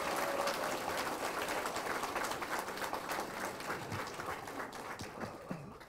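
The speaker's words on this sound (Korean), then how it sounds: "뜨거운 박수로 환영해 주십시오." Audience at an outdoor political campaign event giving sustained applause to welcome a candidate, a dense wash of many hands clapping at a distance, fairly faint and steady throughout.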